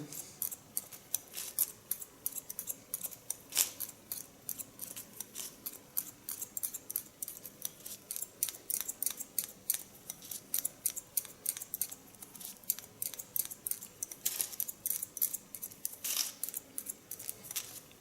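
Scissors snip hair in quick, irregular runs of crisp close clicks throughout a haircut, with no talk.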